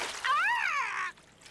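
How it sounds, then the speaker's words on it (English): A cartoon character from Strawberry Shortcake plunges into water at the beach, a bright splash lasting about a second, overlaid by a swooping, whistle-like cartoon tone that rises and falls before cutting off into quiet. "I can make the biggest splash."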